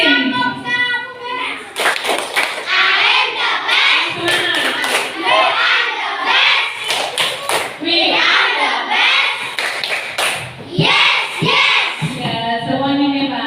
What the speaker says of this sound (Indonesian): Tepuk tangannya dulu.